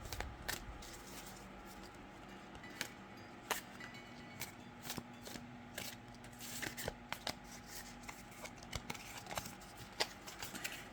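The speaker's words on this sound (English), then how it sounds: "So that's shuffling the cards." Tarot cards are shuffled hand over hand, giving soft irregular papery clicks and slaps in quick bursts, close and quiet, with no talking.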